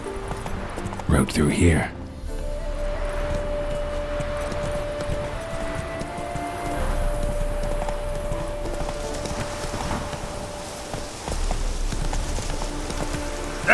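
Hooves of the horse Roach clip-clopping at a steady pace through rain in The Witcher 3, a continuous rhythmic beat under steady rainfall, with brief spoken lines heard over it.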